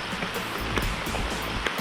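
Steady rain pours down during a storm over a garden, a dense, even hiss of drops falling on surfaces with no voices.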